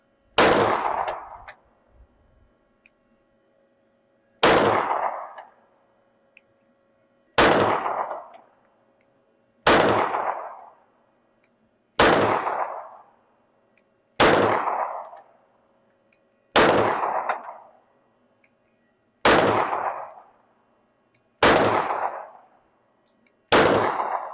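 Smith & Wesson M&P 9 Competitor PC 9mm pistol-caliber carbine firing ten single gunshots, each a loud sharp crack with a short decaying tail, spaced about two to three seconds apart with no talk.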